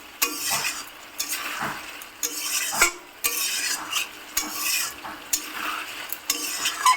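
Masala with turmeric is stirred and fried in a pan on a gas flame, a utensil scraping in repeated strokes with soft clinks over a steady low sizzle, close and fairly loud, with no talking.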